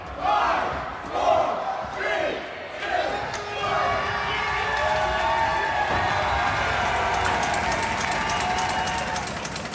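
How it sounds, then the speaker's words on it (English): A large hockey crowd roars and cheers loudly after a playoff goal in a 6-0 game, with shouts rising early on and then a sustained wall of excited noise continuing throughout. "Here's a listen back to the mayhem that broke out when Griffin Callahan scored the last goal"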